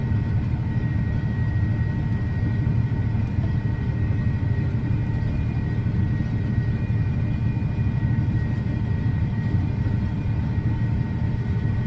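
A tractor pulling an NH3 anhydrous ammonia fertilizer applicator runs at full throttle in a field, giving a loud, unbroken engine drone with a deep rumble and steady whining tones, no talking.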